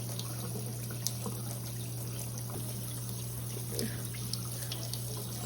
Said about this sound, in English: So we're gonna wash our rice